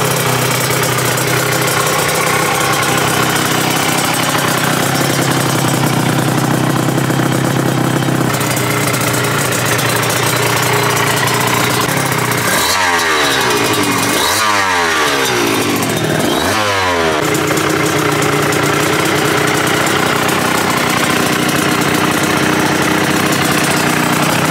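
Motorcycle engine idling steadily and loud and close, with a few quick revs of the throttle in the middle, and no talking.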